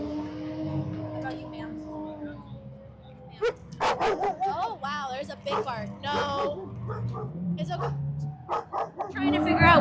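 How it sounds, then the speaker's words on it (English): A dog barks in short repeated bursts amid voices and shop background noise where a vehicle's differential is being worked on, the barks rising over the chatter midway. "Oh wow, there's a big bark."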